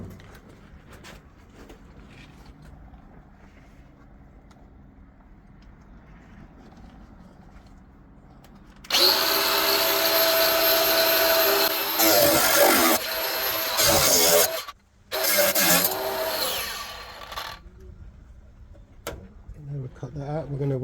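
A power tool cuts into the metal body of a Nissan Navara in a welding workshop. After quiet room tone it starts abruptly at full, harsh volume, runs loud for several seconds, cuts out briefly and then resumes.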